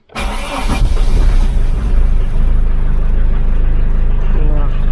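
A diesel Opel Ascona with a manual choke cranks briefly and catches, then settles into a loud, close, steady rumbling idle.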